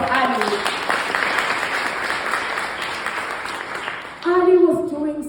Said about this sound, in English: Can you please clap hands for Ali?